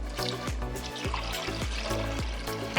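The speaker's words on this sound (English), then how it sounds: "I add the water just to help mix everything together." Water trickles and pours into a bowl of raw dog food, a close, steady stream with a repeating gurgling pulse, no talking.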